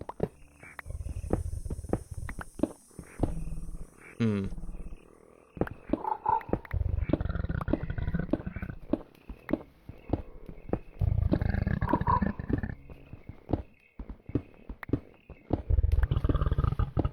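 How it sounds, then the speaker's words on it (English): Lurker mob in Minecraft SevTech Ages growling and roaring nearby in repeated bursts, mixed with game footsteps and clicks. "I can hear one of those lurkers nearby"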